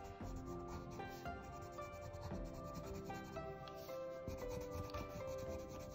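Colored pencil shading on paper while drawing Julius Caesar, a steady close scratchy rubbing that runs continuously under background music, with no talking.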